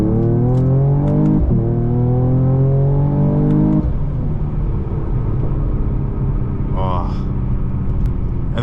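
A Mercedes E53 AMG in Sport Plus mode accelerates hard, its engine note climbing in steady pitch sweeps, with a gear shift partway through, loud and close with road rumble behind.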